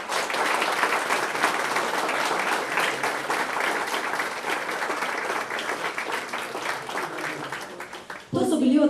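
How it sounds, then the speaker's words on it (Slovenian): Audience applause for kindergarten children at the reopening of a swimming pool, sustained dense clapping for about eight seconds before it stops abruptly and a voice begins speaking. "namenimo jim še en velik bučen aplavz"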